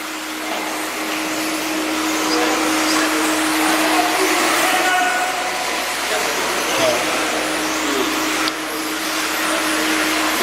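4WD race cars lapping a track during a French championship final, a continuous loud engine whine with a steady tonal drone, while a commentator talks over the racing.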